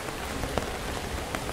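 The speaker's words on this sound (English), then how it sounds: "The rain's, like, you know, increasing." Steady rain falls in a scary video game, a dense, even patter of drops with a few slightly sharper spatters standing out and no talking.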